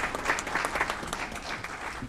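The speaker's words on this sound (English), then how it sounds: "Another round of applause for Cheryl Salinas, Laura Schendel, and Lori Faust." An audience at an Aurora city council meeting applauds three retiring city staff members, a steady wash of clapping from a moderately distant crowd, fading slightly toward the end.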